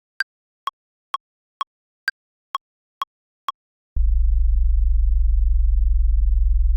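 Eight short, evenly spaced beeps, then two sub-bass sine waves summed on a track, heard as a loud, steady, low hum that runs alone to the end.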